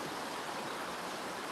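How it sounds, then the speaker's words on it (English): A river flows with a steady, unbroken rush of water that stays even and full throughout, with no voices or other sounds. "This river right here been flowing for millennia."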